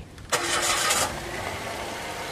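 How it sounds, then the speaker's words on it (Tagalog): A Mitsubishi Mirage G4 car engine cranks briefly with a whirring starter, catches, and settles into a steady idle nearby. "tapos pa-start ko na itong makina"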